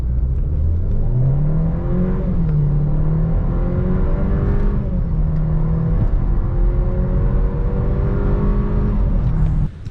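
A 2017 Mercedes GLA 200 with a 1.6 engine revs and runs, a steady engine hum rising and falling in pitch with throttle changes, close and continuous with no talking.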